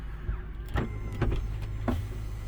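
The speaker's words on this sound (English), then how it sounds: "Power fold mirrors" The power-folding mirror motors of a 2006 Lexus LX470 give several short electric whirs in quick succession, close by and moderately loud.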